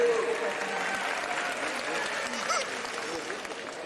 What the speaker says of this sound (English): So we get a big round of applause for Andrea and Jackie and all of their efforts throughout this year.